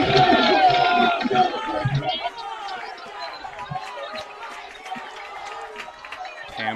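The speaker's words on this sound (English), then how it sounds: "crowd coming to life a little bit" A crowd at a high school varsity baseball semifinal between Redwood and Tam stirs with loud chatter and scattered cheers, starting busy and settling into a lower murmur of voices.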